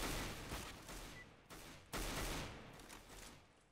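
Counter-Strike gungame firefight: a series of heavy gunshots, roughly three or four powerful blasts, each fading into a ringing decay, loud and close with no talk.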